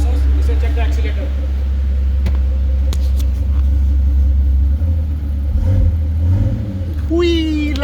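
A 2005 Mercedes SL65 with 97k km revs on the accelerator, giving a deep, loud, continuous engine rumble that swells and eases, close by, with people talking nearby.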